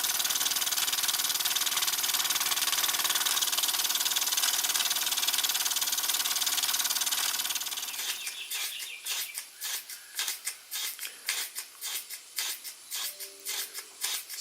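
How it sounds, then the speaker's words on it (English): A model hit and miss engine driving a Baker fan runs under load, first as a dense steady roar, then as quicker separate firing bursts in an irregular rhythm once the load comes off, with no talk. "So running the Baker fan definitely puts this little engine under a load."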